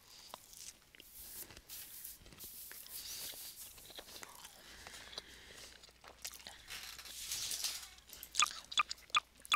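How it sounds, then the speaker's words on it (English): Someone chewing broccoli close to the microphone, a series of irregular wet crunches and bites with soft squishing, growing louder and sharper toward the end, with no talk. "if you hear me chewing, it's because I'm eating broccoli."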